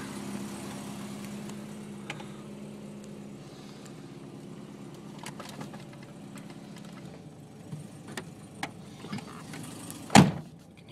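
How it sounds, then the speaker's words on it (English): A cold-started 1982 BMW 325 idles with a steady low engine hum, with a few faint clicks and a sharp knock or door-like thud near the end. "You can hear in gear, she runs from startup, no problem."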